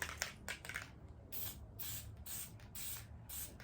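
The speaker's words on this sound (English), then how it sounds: "I'm gonna spray it with some Seal 1." Short hissing bursts of Seal 1 firearm cleaner sprayed onto a rifle bolt, several quick squirts in a row, close and fairly quiet.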